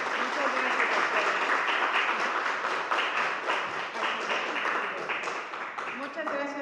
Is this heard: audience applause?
yes